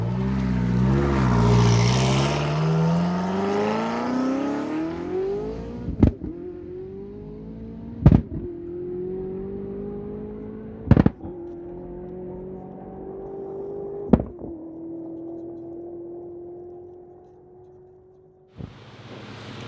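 An SSC Tuatara hypercar roars close by at speed, engine pitch climbing through gears with sharp cracks at each shift before fading into the distance.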